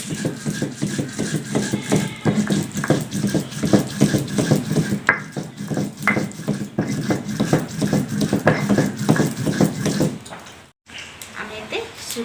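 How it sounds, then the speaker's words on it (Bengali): Cumin being ground into a paste for a Bengali-style egg curry, a steady run of rhythmic scraping, knocking strokes close by that stop near the end. "প্রথমে জিরা বেটবো"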